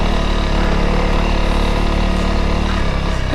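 Dirt motorcycle engine churning through mud, a loud continuous throbbing roar held close for the whole stretch with no talking over it.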